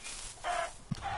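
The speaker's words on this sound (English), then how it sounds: "Look at all those chickens!" A Minecraft chicken gives a couple of short clucks with a brief low thump in between, close and clear against a light background hum.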